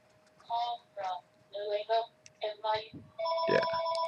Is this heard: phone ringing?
yes